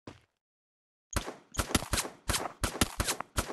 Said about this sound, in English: who's trying to shoot me and can't hit me?